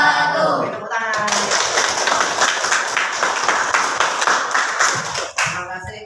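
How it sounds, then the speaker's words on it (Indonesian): A classroom of students claps together after a group presentation, with brisk, fairly close hand claps lasting around four seconds; a voice briefly precedes the clapping and is heard again as it ends. "Tepuk tangan."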